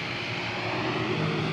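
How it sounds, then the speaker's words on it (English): An airplane passes overhead with a steady, droning engine roar, moderately loud and even throughout the short moment, with no talking. "Did that plane scare you?"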